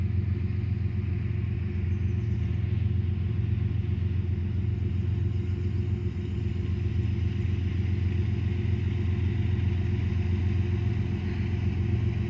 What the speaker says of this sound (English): Right now we got a Canadian Pacific train coming.